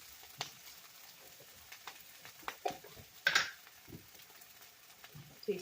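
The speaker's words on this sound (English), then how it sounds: "And our onions are sauteing beautifully." Onions sautéing in a pan give a faint, sparse crackle and sizzle, with scattered ticks and a brief louder spatter near the middle. No one talks.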